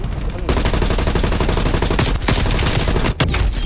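Rapid automatic gunfire from Call of Duty: Black Ops Cold War multiplayer rattles in a loud continuous burst, a brief break near the end before firing resumes.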